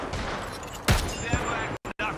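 Gunfire in Apex Legends, a loud close burst of shots followed by another report and brief sharp cut-outs, heard over game noise.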